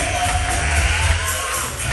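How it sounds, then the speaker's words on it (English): A comedy club crowd at the Stress Factory claps and cheers for comedian Purnell Holloway, a dense, steady roar of applause that fills the whole stretch at even loudness. "Clap it up for the Academy"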